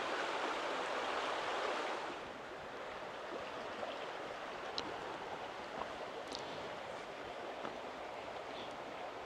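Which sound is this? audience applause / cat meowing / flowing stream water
flowing stream water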